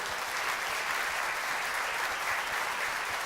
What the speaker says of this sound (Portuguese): Uma salva de palmas para as mamães.